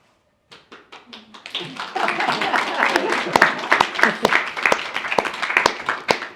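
Audience clapping at a panel evening on digital design and fashion industry waste, starting as a few scattered claps and swelling into steady applause from a room of people, with some voices mixed in.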